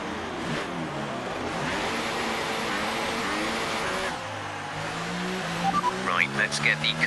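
F1 race car engine in the F1 2018 video game droning loud and continuous, shifting through gears with stepped pitch changes, then rising revs and sharp bursts near the end.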